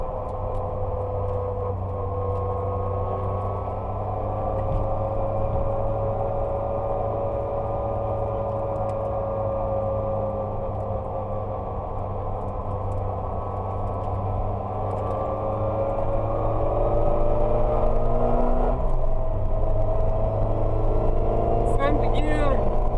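A Ford Puma rally car cruises in fourth gear at about 3000 rpm and 60 km/h, its engine a steady droning hum heard from inside the cabin that swells slightly near the end, with someone talking over it.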